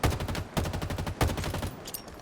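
Skewer weapon firing in Halo Infinite, heard as a series of loud, punchy shots repeating in a steady rhythm, each with a heavy low thump and a sharp crack, close and clear with no talking.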